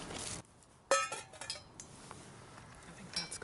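Small metal frying pan for outdoor cooking handled on a Bushbox XL stove, giving one sharp metallic clank followed by a few lighter clinks and scrapes, close by amid quiet outdoor background.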